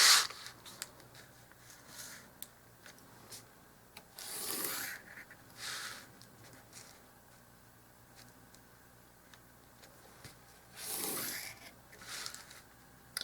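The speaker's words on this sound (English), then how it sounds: "I wouldn't go any finer than 100 grit, like 150 maybe if I was really desperate." Coarse 100-grit sandpaper rubbing wood for a dollhouse miniature front porch, heard as a few short, close rasping strokes in separate bursts, with quiet gaps between them and no talking.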